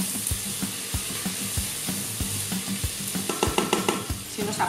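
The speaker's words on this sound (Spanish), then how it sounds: "Cuando esta cebolla ya esté bien dorada, vamos a incorporar los boletus previamente picaditos." Chopped porcini mushrooms hit golden frying onion, giving a close, steady sizzle marked by regular thumps and scraping strokes of a utensil that quicken into a busier clatter toward the end; no one talks.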